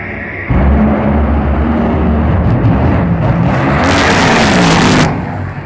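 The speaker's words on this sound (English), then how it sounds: "it's Tommy and Robert hitting the gas" NHRA drag racing cars launching at Wild Horse Pass Motorsports, a sudden deafening engine roar bursting in after a brief quieter moment and holding at full volume, with a harsh hissing surge near the end before fading.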